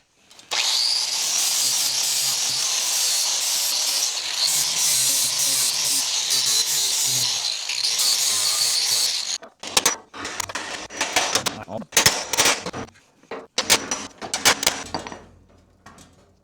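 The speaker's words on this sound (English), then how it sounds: "I'm gonna grind out these rivets" An angle grinder grinds out rivets on a truck bed, a loud continuous screeching whine for several seconds, followed by clattering metal knocks and short grinding touches as parts are worked loose.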